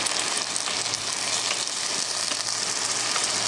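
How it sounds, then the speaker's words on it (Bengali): Egg curry cooks in a pan with a loud, dense and continuous sizzle of frying, steady throughout and close up, with no talk. "এখন আমি ডিমের ঝোল করছি।"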